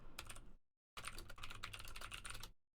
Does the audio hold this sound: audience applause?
no